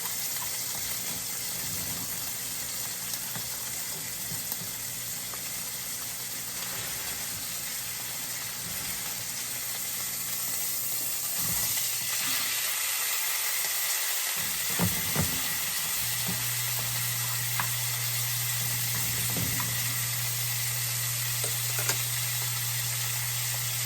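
Steak pan-searing, a continuous loud sizzle and crackle in the pan throughout, with a steady hum joining partway and a few soft clicks, no voices.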